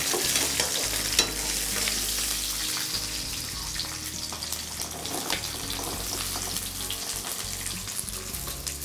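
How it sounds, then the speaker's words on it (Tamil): Garlic and small shallots frying in a pan for a Tamil fish dish, a steady close sizzle with stirring scrapes and some water-like clatter running throughout, no voices. "பூண்டு சின்ன வெங்காயம் போட்டு நல்லா வதக்கிட்டு"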